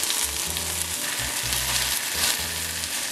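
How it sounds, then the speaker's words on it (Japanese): King oyster mushrooms searing in a hot frying pan with salad oil, a loud unbroken sizzle layered with low rhythmic hums and occasional crackles, close up and without any talking. "フライパンが温まればここにエリンギ、エリンギをすべて加えたら表面に焼き色をつけていきます"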